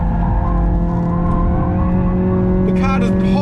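A Hyundai i30 N sedan, dampers in Sport Plus, drives hard through mid-corner bumps on a track, its engine droning loud and steady with tire noise rising near the end, and a voice talks over it.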